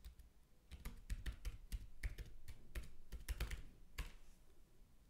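Keys on a computer keyboard clatter in quick irregular bursts while login credentials are entered for a Red Hat Enterprise Linux registration, close and fairly quiet, with no talking.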